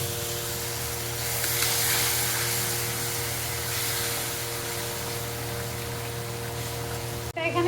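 Masala sizzling in a frying pan with boiled-vegetable water from potatoes and pumpkin, a continuous close hiss with a steady hum underneath and a brief clatter near the end.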